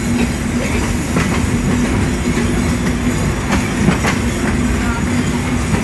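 A train rumbles steadily nearby at Ishwardi railway station, Bangladesh, with a rhythmic clatter of wheels over rail joints and occasional metallic squeals.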